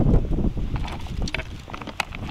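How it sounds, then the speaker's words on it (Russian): Wind buffeting the microphone in low rumbling gusts while fishing for perch, with faint splashes and knocks in the background. "Сегодня довольно ветрено, конечно."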